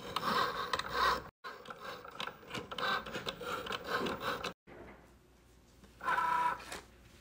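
A Cricut Joy cutting machine runs its blade through material, giving a steady mechanical whirring and rubbing with brief pauses and a louder burst near the end, close by and alone.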